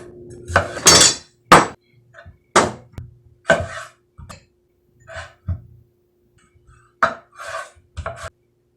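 A knife cuts tri-colored peppers on a cutting board, giving a series of sharp, close knocks and chops in an uneven rhythm with quiet gaps between them.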